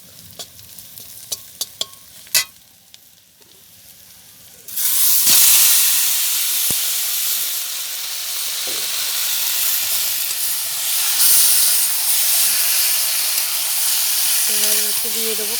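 Colocasia leaves hit a hot pan of fried crab masala with salt, turmeric and chilli, bursting into loud, steady sizzling and steam hiss after a few quiet clinks, with stirring scrapes near the end.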